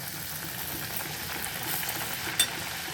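Poori frying in hot oil for a home breakfast, a faint, steady sizzle running alone throughout with one brief sharp pop near the end.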